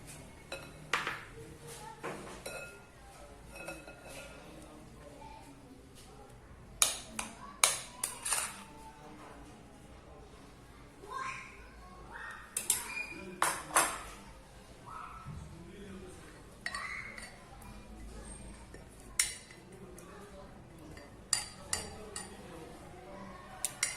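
Yogurt, butter and other ingredients being stirred together in a bowl for cinnamon bites, with scattered clinks and scrapes of a utensil against the dish at an irregular pace, plus a few louder knocks.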